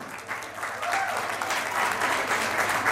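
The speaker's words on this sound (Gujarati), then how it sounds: "આપણે એમને પણ તાળીઓથી વધાવશું." Applause from a batch reunion gathering in Bhuj: a crowd claps in a steady wash that starts softer and swells louder after the first second, continuing evenly to the end.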